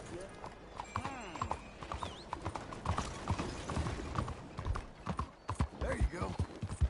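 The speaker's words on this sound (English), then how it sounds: "Hey, this little horse." Horse hooves clip-clop steadily in Red Dead Redemption 2, close and lively, mixed with a brief whinny and game sounds while someone talks over them.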